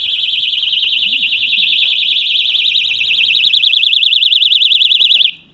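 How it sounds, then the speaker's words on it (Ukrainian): A piercing electronic alarm siren from a Weison DX 26 motorcycle alarm lock blares steadily for several seconds, warbling faster toward the end before cutting off abruptly. Nearby and loud, with no speech. "Ну і сигналізація починає працювати."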